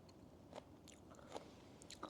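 Someone crunches and chews a sour dish from a fancy Japanese meal, faint close bites and crisp crunches spaced irregularly, no talking.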